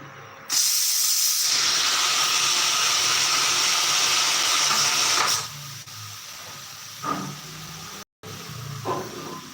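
A pressure cooker vents steam in a continuous loud hiss for about five seconds, then cuts off abruptly, leaving quieter scattered kitchen sounds and a few soft bumps.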